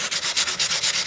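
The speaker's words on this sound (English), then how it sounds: "Sanding." Hand sanding with sandpaper over a finish repair on a cracked Martin D35 acoustic guitar, fingers driving quick back-and-forth strokes: about eight close, even, rasping passes in a steady rhythm, near and alone.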